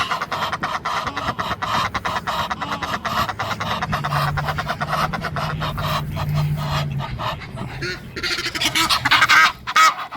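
A flock of geese and other fowl honk and call continuously at close range among wild birds near a feeding spot, a dense overlapping chorus with no talk.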